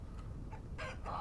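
Chickens in the video game Vintage Story give a few short, soft clucks in quick bursts near a chicken coop, quiet and close, with no talking.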